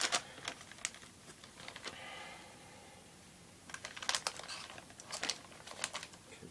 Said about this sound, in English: I'm going to use scissors today.